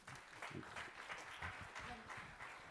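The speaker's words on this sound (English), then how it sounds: "A big round of applause for the Minister." An audience at a global summit in Germany applauds a government minister, steady clapping from a crowd filling a hall, fairly faint and continuous throughout.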